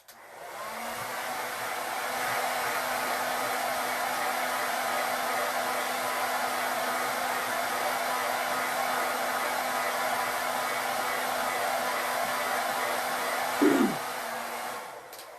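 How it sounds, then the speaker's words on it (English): A hair dryer on its cool setting blows with a steady, even whoosh, running nonstop at a constant level for the whole stretch with no talking over it. "I'm going to take my blow dryer and I'm going to dry this part right here"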